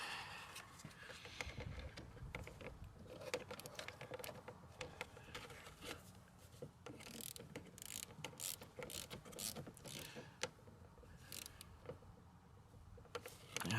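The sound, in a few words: tightening fasteners while changing Hyundai i30 headlight bulb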